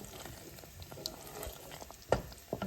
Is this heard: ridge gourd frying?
yes